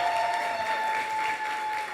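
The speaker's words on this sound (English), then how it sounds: "Let's give a giant round of applause to Jan-Nov." An audience at a real estate conference session bursts into dense, sustained applause, a steady wash of many hands clapping at once at fairly close range.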